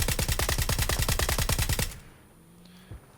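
VSS rifle in PUBG firing fully automatic: a rapid, even burst of loud, closely spaced shots for about two seconds, then sudden quiet with faint background noise and a soft click.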